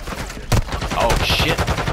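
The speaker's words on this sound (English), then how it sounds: "Where are they shooting from?" Gunfire from a Call of Duty: Modern Warfare II match: a sharp broadband shot near the half-second mark, then dense rattling fire and game noise running continuously at moderate loudness.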